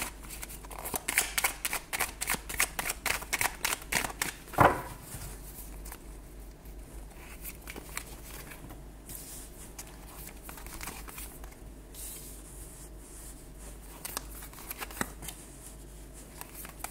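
Tarot cards are shuffled for a nine-card spread. Rapid, close riffling and flicking dominate the first five seconds, ending in a sharp slap, followed by softer intermittent card handling.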